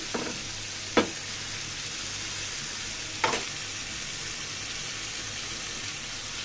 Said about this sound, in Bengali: আলুগুলা কিন্তু আমার ভাজার মধ্যে সিদ্ধ হয়ে গিয়েছে